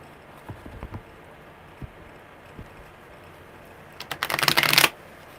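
Tarot cards shuffled by hand during a live reading, starting with a few sparse soft taps and then a dense, loud riffling burst of close card shuffling near the end, with no talking.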